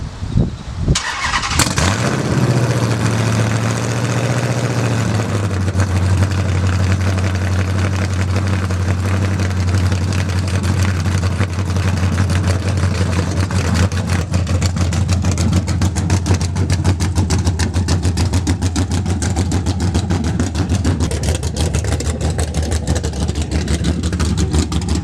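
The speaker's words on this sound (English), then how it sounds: "But I'm finna give y'all a nice cold start." A car fitted with aftermarket mufflers is cold started, cranking briefly before catching with a loud burst, then settling into a deep, throbbing idle that runs steadily close by.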